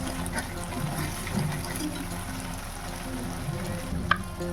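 Chicken goes into a hot pan alongside tomato and salt, giving a steady low sizzle and frying hiss throughout, quiet and close, with faint stirring and a small clink near the end.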